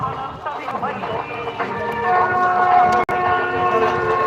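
A train rumbles at busy Vijayawada railway station, with a drawn-out horn tone and crowd chatter and voices talking over the rail noise.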